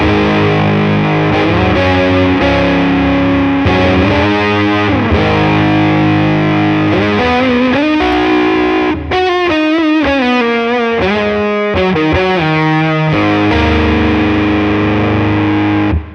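Stratocaster bridge pickup driving a Mythos overdrive pedal with every control at noon and the loud switch off, giving a steady, loud distorted electric guitar playing chords and riffs with sustained notes, alone throughout.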